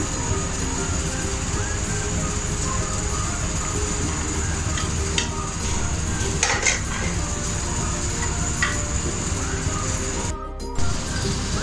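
Achaar gosht (achari chicken karahi) being served out of the pot, with metal utensils clinking and scraping against cookware in a few brief bursts over a steady background hum.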